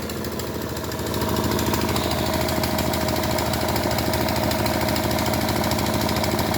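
A sand dredger machine's engine runs in rural Bangladesh, a steady chugging drone that gets a little louder after the first second and then holds constant.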